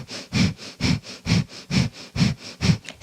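Breath of fire yoga breathing: rapid, rhythmic nasal exhalations, about three per second, forceful and close-miked, evenly spaced with brief gaps between each sharp puff.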